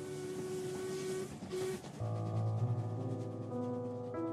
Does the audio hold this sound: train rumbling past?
yes